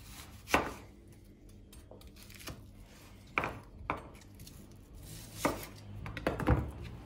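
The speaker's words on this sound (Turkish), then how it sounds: "Şimdi soğanlarımızı da halka halka doğrayalım arkadaşlar." Several sharp knife chops slicing onions into rings against a cutting board, spaced irregularly with quiet gaps between them, close and fairly crisp.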